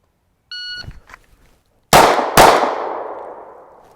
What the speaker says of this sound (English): So we're going to draw, push out, fire 2 rounds.